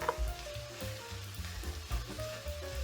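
Peppers and onion hit a frying pan already holding garlic, setting off a soft, continuous sizzle under low rumbling kitchen noise and a few brief tonal sounds. No speech is heard.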